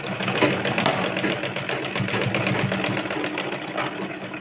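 An electric sewing machine stitches a petticoat, running in a steady, rapid mechanical chatter at moderate volume, close by and uninterrupted.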